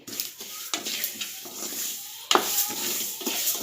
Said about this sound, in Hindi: ये तड़क रहे हैं तिल।